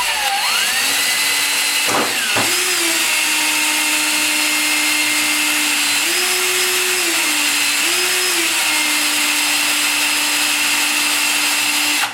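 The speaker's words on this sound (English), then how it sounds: "Using a small drill bit at a 45-degree angle, drill a relief hole behind the retaining ring" A small power drill whirs loudly and continuously, boring a relief hole at a 45-degree angle behind a ball joint retaining ring on a Porsche 944, its motor pitch rising and dipping slightly, with a brief clunk early on.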